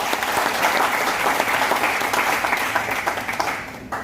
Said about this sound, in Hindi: आप एक ताली बजाएंगे।